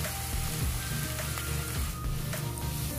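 Crushed spices and fennel seeds fry in hot oil for a mutton curry, making a steady, dense close-up sizzle with faint crackles and no talking.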